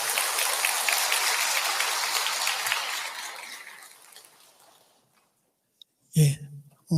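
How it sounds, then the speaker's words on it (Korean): Applause fills a church after a sermon, dense clapping that holds steady, then thins and fades to silence, followed by a short burst of sound at the end. "그 감사한 마음을 담아서 힘찬 격려의 말씀 박수 부탁드리겠습니다"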